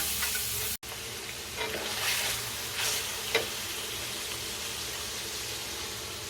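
Onions sautéing in a pan give a constant moderate sizzle and hiss, with light stirring clicks and a few brief pops, and no voices over it.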